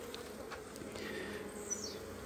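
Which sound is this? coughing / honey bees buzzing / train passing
honey bees buzzing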